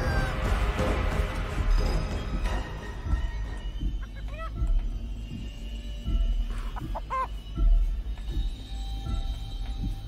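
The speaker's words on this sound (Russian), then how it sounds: "Курица уже идет в нашу сторону." Chicken clucking in a video game, several short clucks scattered among game noise and footsteps, moderately loud, with no talk over them.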